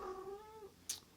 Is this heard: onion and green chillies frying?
no